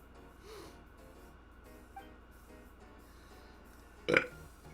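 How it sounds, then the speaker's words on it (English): A character in the Genshin Impact video game gives a single short, gruff burp near the end, after a few seconds of quiet background sound with a faint breath or snort early on. "I'll join in for a burp."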